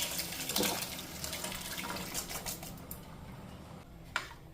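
Boiled black chole slides from a container into a cooking pan with a continuous wet, hissy pour and splash, ending in a small clatter near the end.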